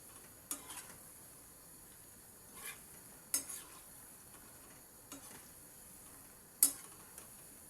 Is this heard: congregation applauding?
no